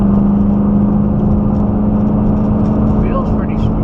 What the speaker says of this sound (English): We just need to tighten this up and get out from under the car and take it for a test drive